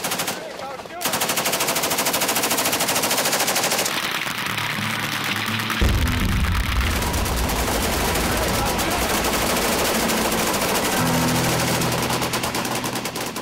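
Rapid gunfire at a shooting club, aimed at pumpkins and gas canisters: dense bursts of shots continuing for several seconds, loud and close, with a few heavier blasts.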